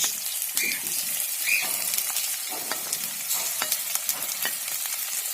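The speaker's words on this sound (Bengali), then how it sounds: "ওগুলো একটু গরম করে ভেজে নিব এক দেড় দুই মিনিট এখন কেটে রাখা বড়িগুলো দিয়ে দিচ্ছি" Cut boroi plums fry in hot oil with chopped garlic in a pan, a steady close sizzle broken by scraping stirs and a few bubbling pops, with no voices.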